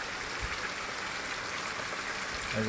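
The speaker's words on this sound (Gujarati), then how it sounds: "દિવાળી ગયા પછી દેવ દિવાળી આવી અને વરસાદ બંધ થતો નથી" Continuous soft hiss of rain falling steadily on cotton fields, with faint patters and a low rumble of thunder underneath.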